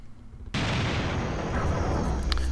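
Cannon fire and explosions in the video game Serious Sam HD: a sudden loud blast opens a dense, sustained rumbling roar of bombardment that stays near and heavy to the end, with faint crackles on top.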